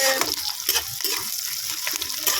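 Ginger and garlic sizzling in hot oil for Hakka noodles, a steady loud frying hiss with rhythmic stirring scrapes close by.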